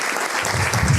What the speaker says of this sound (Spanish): pido que le den un fuerte aplauso a mi invitado de esta noche